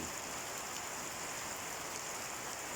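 Steady, dense hiss of heavy rain pouring down without pause, like a constant downpour drumming on surfaces nearby.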